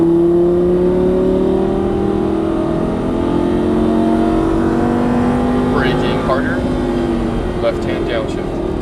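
Lamborghini Gallardo Superleggera LP570-4 accelerating on a race track, its engine a steady, loud drone with rising pitch under throttle, while a coach's voice gives instructions over it.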